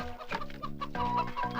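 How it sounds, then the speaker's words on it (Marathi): A hen clucks in a run of short, close calls with loud bursts that carry on without a break, alone with no talk. "अगं माझ्या कोंबडीचा आवाज यायला लागले."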